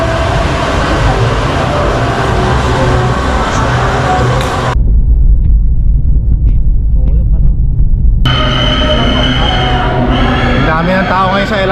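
An LRT light rail train in Manila rumbles past close by, a loud continuous roar and rattle of wheels with a brief dip in the high hiss midway, city noise and some talk mixed underneath.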